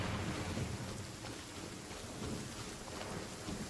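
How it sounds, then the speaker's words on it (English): Rain falling in the video game Genshin Impact, a dense steady wash of drops with low rumbling underneath, continuous and even throughout, with no voices. "Was the rain just coincidental"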